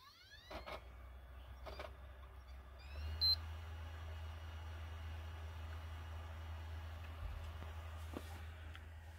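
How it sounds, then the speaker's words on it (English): A PS4 console gives two short electronic beeps while entering safe mode, faint and spaced over a second apart, followed by a brief higher tone over a low steady hum in a quiet room. "Alright, there are the two beeps."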